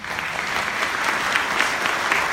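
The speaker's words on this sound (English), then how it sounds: "all of those people clapping right now" An audience at a political question-and-answer event claps continuously in a full, even burst of many hands at steady loudness.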